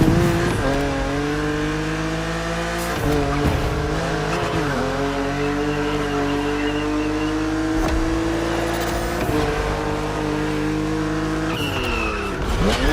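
A BMW Z roadster races in the video game The Crew Motorfest, its engine droning steadily at close range with rising and falling revs as it accelerates and shifts, and tires squealing through several skidding turns.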